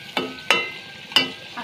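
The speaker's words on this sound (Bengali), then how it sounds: "এবার নেড়ে চেড়ে ঢেকে দেবো" Mutton biryani being stirred in a pot, four short scraping, clattering strokes at uneven intervals over a faint background hiss.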